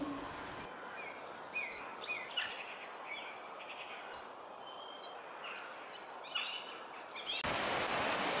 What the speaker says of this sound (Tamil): பல வண்ண பறவைகளின் ஒலிகளை பாடலாய் கேட்டு மகிழ்கிறேன்